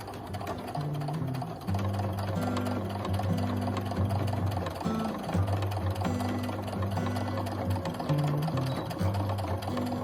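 A sewing machine top stitches across a fabric wallet, its motor humming in steady runs with brief stops and restarts, close and continuous, with no talking.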